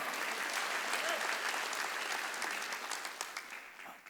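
A church congregation claps during a Wednesday sermon, a broad, even wash of many hands, slightly distant, that fades and loosens into scattered claps near the end.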